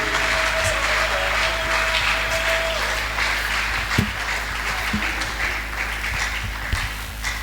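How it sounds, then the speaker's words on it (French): A church congregation applauds and cheers as Dr Nathan comes forward at a deliverance service, a sustained dense crowd roar with scattered claps and a few louder thumps, voices mingled throughout. "Pendant qu'il avance, nous acclamons le Seigneur."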